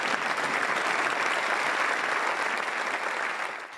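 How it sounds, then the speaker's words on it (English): French lawmakers from both houses of Parliament, gathered at the Senate, applaud King Charles at length, a dense and loud sustained ovation that fades slightly at the end. "King Charles received a warm welcome from French lawmakers from both the upper and lower houses of Parliament, who gathered at the Senate"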